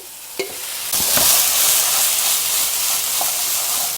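Boiled noodles with minced garlic stir-fried in a hot pan for Shanghai pasta, a loud steady sizzle with sharp clinks of a utensil against the pan.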